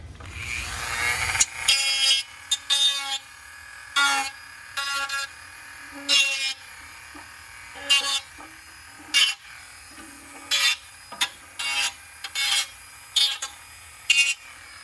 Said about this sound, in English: There's also tabs in the other half of the case that you'll have to grind down as well.